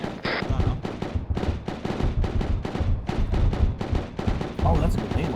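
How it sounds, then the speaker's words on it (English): Grenade launcher fire and explosive impacts in a military video game squad operation, with dense, repeated booming bursts and rumbling hits that continue almost without a break, loud and close. "Oh, that's a grenade launcher, isn't it?"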